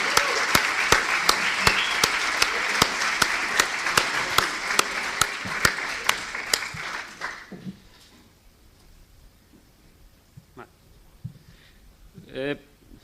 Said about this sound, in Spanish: que les diéramos un fuerte aplauso por todo el esfuerzo que han hecho